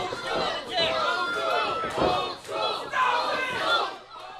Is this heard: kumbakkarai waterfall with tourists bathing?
no